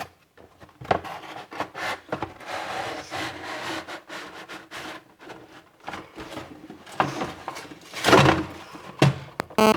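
Nerf Fortnite SP-L blaster being taken out of its cardboard box, a string of close plastic and cardboard thuds, rustles and knocks, irregular and moderately loud, with no talking.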